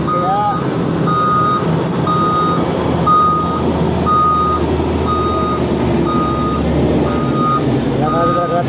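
A Caterpillar 740 articulated dump truck backs up with a steady run of evenly spaced reversing beeps over its idling diesel rumble, with faint background voices.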